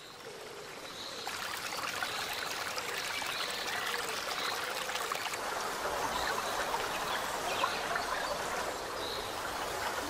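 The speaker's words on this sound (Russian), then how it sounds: "Высоко в холмах крохотный ручей пробивается к жизни." A tiny stream trickling from a spring high in the hills gives a soft, continuous babbling hiss of running water, steady and fairly faint throughout.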